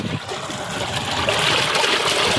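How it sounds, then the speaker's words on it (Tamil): A 600W BLDC motor water pump running on solar panel power pushes water that trickles and splashes steadily into a drum, a loud, close, continuous watery hiss without voices. "மோட்டார் டெஸ்டிங் போட்டாச்சு பேனல் ரெண்டு பேனல் லைன் கொடுத்துருக்கோம் அறநூறு வாட்ஸ் மோட்டருக்கு நானூற்றம்பது வாட்ஸ் ரெண்டு பேனல் வந்து லைன் கொடுத்துருக்கோம் ரன் ஆகிட்டுருக்கு"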